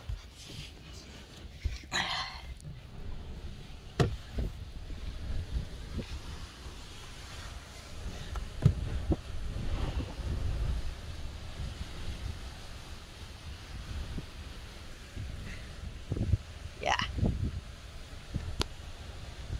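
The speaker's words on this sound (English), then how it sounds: "Let me give you an idea of how windy it is." Strong coastal wind on South Padre Island, Texas, buffets the microphone in a constant low roar with gusts that rise and fall. Surf rumbles underneath, and a dog barks a few times in the distance.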